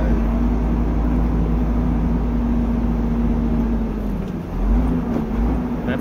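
A Shacman truck with a 12-speed manual gearbox runs with a loud, steady diesel drone, and its pitch dips and then climbs again near the end as the driver changes down a gear, heard from inside the cab with no talk.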